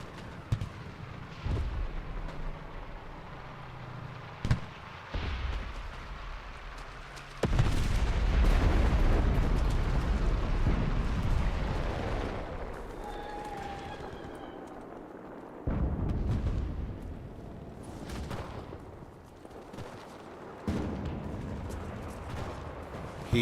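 Carbine fire in the World War II shooter game Enlisted: scattered sharp shots crack at irregular intervals, some close and loud, others softer, over a continuous booming battlefield rumble.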